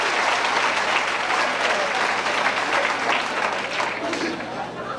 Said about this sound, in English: Let's have a big round of applause for all the people that did not make it in the top 10.